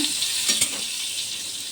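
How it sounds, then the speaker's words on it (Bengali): Pointed gourd (potol) slices frying in a pan, a dense continuous sizzle heard close up with a faint stir or two, no voices. "পটল ভাজা হচ্ছে"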